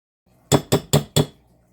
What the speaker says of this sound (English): I'm just going to use a fork and we are going to mix this all in